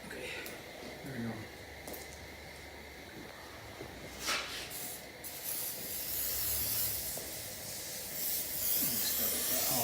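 An aerosol can of oven cleaner gives short hissing sprays onto a Honda D16Z6 engine during a cleanup, sounding close and fairly faint, with a voice in the background.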